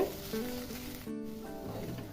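Fenugreek greens frying in a pan after being covered, a soft steady sizzle with faint stirring, quiet and close.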